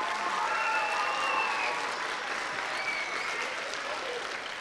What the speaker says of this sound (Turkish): arkadaşlarımızdan bir alkış alalım